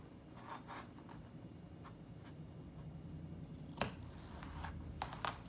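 Fabric scissors make short snipping and rubbing strokes as they cut a notch into skirt fabric, with one sharp snip standing out near the end. The sounds are close and quiet, and nobody speaks.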